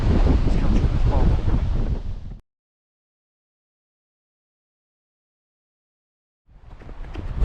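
Wind roars and buffets the microphone on a freezing winter hill walk, loud and rumbling at first, then cutting to silence before gusting back in near the end.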